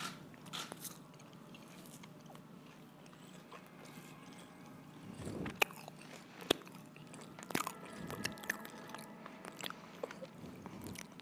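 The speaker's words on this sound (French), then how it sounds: "Certaines personnes sur le plateau n'aiment pas du tout les bruits de bouche, mais moi j'adore." Someone chews marshmallows close to the mic, with soft wet mouth noises and sporadic sharp clicks and smacks over a quiet low background, irregular and intimate, no talking.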